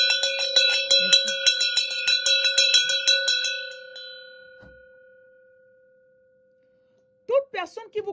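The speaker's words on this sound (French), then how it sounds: "On a mis une cloche. Chaque fois que la personne sonne la cloche comme ça" A handbell rung during a church service: rapid repeated ringing strikes, loud and close for about four seconds, then a long fading ring into silence before a voice briefly speaks.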